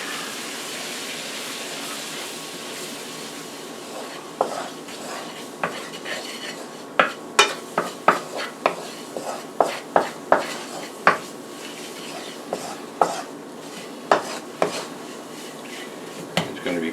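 A wooden spoon stirs flour into a gumbo roux in a metal pot, with steady scraping and irregular sharp knocks against the rim, close and clear, and almost no talk.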